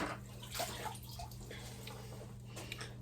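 Running tap water rinses dirt off a small soil block used for seed starting, a steady soft splashing stream that continues for a few seconds, fairly quiet, with no speech.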